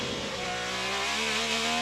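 An IndyCar race car at full throttle in qualifying at Mid-Ohio for the 2025 Honda 200, its engine note climbing steadily in pitch, loud and continuous with no lift.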